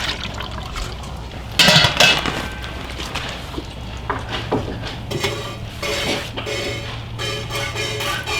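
Fresh milk is poured into a lidded bucket amid metallic clanks and rattles, with one louder clatter early on and liquid splashing continuing throughout.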